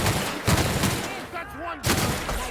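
A few quick gunshots from a new gun in The Outer Worlds crack out in short bursts, loud and close, with a brief lull partway through.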